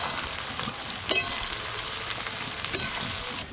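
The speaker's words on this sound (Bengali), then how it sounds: "এবারে পেঁয়াজগুলো কড়াতে দিয়ে দেবো।" Sliced onions fry in hot oil in a wok for birista, a dense continuous sizzle heard up close with a few sharper stirring clicks.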